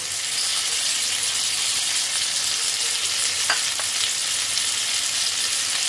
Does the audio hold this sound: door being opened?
no